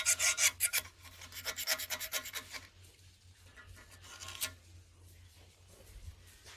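Metal scraping on a rusty part from an International 6 HP Type M engine, rapid rhythmic rasping strokes up close, then slower, quieter scrapes.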